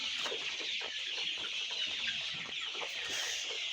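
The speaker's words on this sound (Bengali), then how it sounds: "520টা মুরগি।" Hundreds of chickens in a village poultry shed cluck and chatter in a dense, continuous chorus, fairly close and with no talk.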